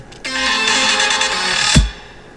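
A bright synthesized tone swells in, sustains with a thick, spacious reverb wash, then ends in a low thump as the tail fades out.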